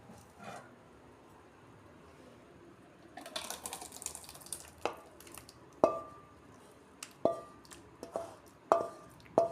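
Cooked chana dal is poured and scraped out of a pan, a series of soft wet plops and sharp spoon-on-metal clinks, close and fairly quiet, repeating irregularly.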